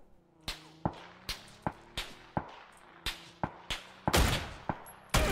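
Gunfire in PUBG: Playerunknown's Battlegrounds, a series of about a dozen sharp, loud single shots fired at a steady semi-automatic rhythm, each with a short ringing tail, over faint background game ambience and no talk.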